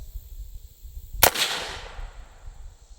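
A Q Sugar Weasel rifle fires a single 5.56 55-grain full metal jacket round, one sharp loud crack followed by a short decaying echo, with no other sounds around it.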